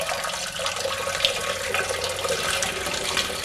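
Hot wort is poured over a steeping grain bag on an extract brewing day for an IPA. It is a steady, close splashing trickle, like a running tap, with no talk.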